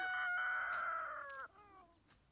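A rooster on a farm with free-range organic chickens crows once, a clear, fairly close cock-a-doodle-doo with a long sustained note that drops off near the end, over quiet outdoor background.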